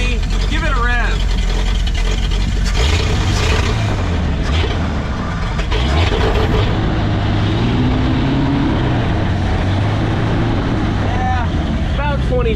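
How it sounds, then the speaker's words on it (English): A 1952 Packard engine revving, a loud, rough rumble that rises and falls under strong wind noise while people talk nearby. "Give it a rev."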